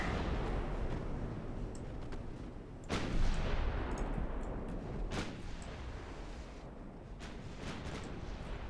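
Secondary 5.5-inch naval guns fire in the naval warfare game Ultimate Admiral Dreadnoughts, deep booming shots rolling over a constant roar of battle, with a few heavier reports standing out from the din.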